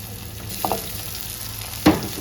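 Crushed onion, garlic, green chilli and curry leaves sautéing in a pan for a Kerala fish curry, a steady low sizzle with a couple of brief stirring clinks, close and moderately loud.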